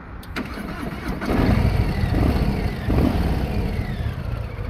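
A Harley-Davidson motorcycle engine starts and settles into a steady, low idle with quiet exhaust, close by and moderately loud, with a soft, muted rumble and no talking.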